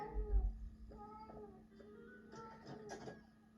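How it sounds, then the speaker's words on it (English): A cat in the children's cartoon Caillou lets out several drawn-out meows in a row, close and clear over a faint background tone, with no speech. "Silly cat."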